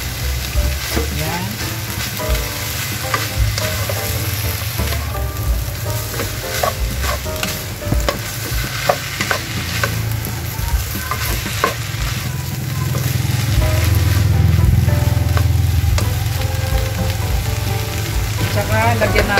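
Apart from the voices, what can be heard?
sizzling as fish sauce is added to frying pan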